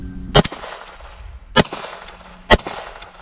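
Three sharp, loud pistol shots from a Palmetto State Armory Dagger Compact fired at a bowling pin, spaced about a second apart, each a crisp crack with a short decaying echo.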